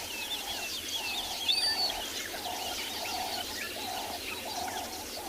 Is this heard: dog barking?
no